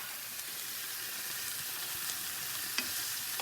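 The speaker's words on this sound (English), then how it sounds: "this pan is hot, so you want to turn it down a little bit and let it keep simmering." Crushed tomatoes simmering in a hot pan for shakshuka: a steady close bubbling hiss of sizzle throughout, with a few faint ticks from the pan and no voices.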